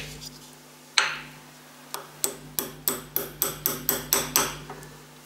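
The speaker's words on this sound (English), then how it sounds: "we should be able to put our little rivet in on the top first. So I'm just going to tap that one in loosely." A hammer taps a rivet loosely into a metal casting: one sharp knock, a pause, then a quickening run of about a dozen bright, close metallic taps over a steady background hum.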